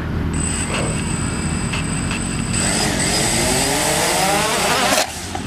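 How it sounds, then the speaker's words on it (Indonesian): Small camera drone carrying a smartphone arming its motors, a steady high electric whine that swells and shifts pitch as the rotors spin up, loud and close with no talk. "kita arming motor."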